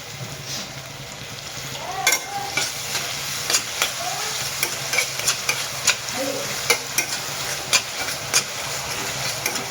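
Tomatoes and onions fry in a pan for a leftover-rice pulao, a continuous sizzle broken by repeated scraping clicks of stirring at an uneven, unhurried pace, heard close up.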